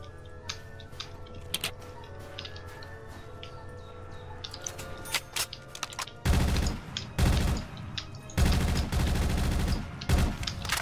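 Bursts of MV4 gunfire in Call of Duty: Infinite Warfare, starting with scattered distant cracks over a humming background, then loud, close rapid-fire volleys in several separate bursts.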